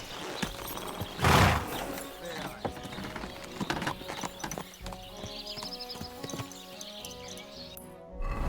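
Horse hooves clip-clop at a steady gallop in Kingdom Come: Deliverance II, with a sharp burst of noise near the start, some chirping in the background and speech in places.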